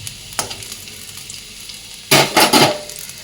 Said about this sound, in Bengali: সর্ষের তেল থেকে অল্প করে একটু দেখো রসুন দিয়ে দিয়েছি তেলের মধ্যে রসুনটা একটুখানি ভালো করে ভাজা ভাজা করে নেবো